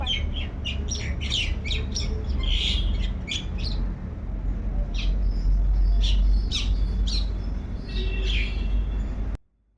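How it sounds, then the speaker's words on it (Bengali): Common myna birds call outdoors in a steady run of harsh squawks and chirps, some close and loud, others farther off, with no talking. "আমি না চুপ করে পাখির আওয়াজ শুনছিলাম এত ভালো লাগছিল শালিক পাখি ওই দেখো দুটো শালিক পাখি বসে রয়েছে"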